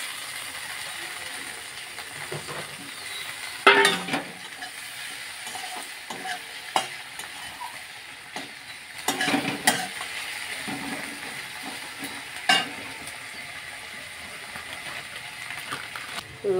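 Chopped tomatoes go into a pan of browned onions and are fried with a steady, fairly quiet sizzle, broken by intermittent spatula scrapes and clatter against the pan.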